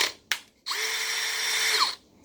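Power drill running at its faster second speed: a quick blip, then a close, steady high whine for about a second and a half before spinning down, with no voices.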